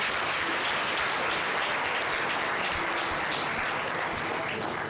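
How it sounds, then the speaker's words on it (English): Audience applause for a minister at a Free State Province public session: a dense, sustained wash of many hands clapping at steady loudness throughout, with no talk over it. "Can you please clap for the Minister again?"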